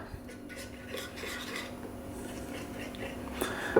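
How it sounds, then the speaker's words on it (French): A utensil stirs mint into a mixture in a bowl while making homemade sweets, giving soft close scraping and rubbing with light clinks of metal against the bowl, fairly quiet. "Et là, je mélange."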